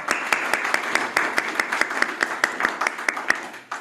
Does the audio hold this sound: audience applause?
yes